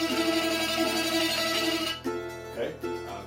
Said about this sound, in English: Tremolo, when singing or playing an instrument, is a shaking sound that is achieved by repeating the same note extremely quickly